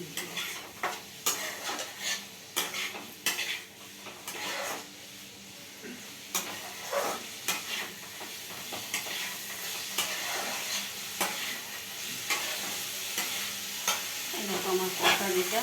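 Spices are stirred and fried in a pan for kosha, with a soft steady sizzle and repeated scraping strokes of a spoon against the pan, close and fairly quiet.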